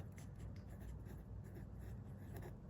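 A pen or marker scratches steadily on paper as someone writes by hand during a math lesson, soft continuous strokes under a low background hum.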